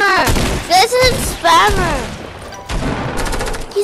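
An assault rifle in a squads-mode video game fires repeatedly in loud bursts of gunfire, mixed with clipped sounds and booms, with voices faintly present.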